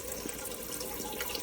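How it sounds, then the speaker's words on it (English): Water cascades steadily over plant roots inside an indoor aeroponic Tower Garden, a continuous close trickling and splashing wash with faint drips and no voices. "that water is being cascaded over the roots of the plant"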